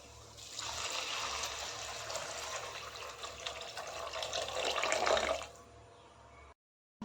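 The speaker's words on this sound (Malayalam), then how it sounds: "ഇനി ഇതിലേക്ക് വെള്ളം ഒഴിക്കാം" Water pours steadily into a pot of rice for several seconds, a close, continuous splashing stream that builds slightly before stopping.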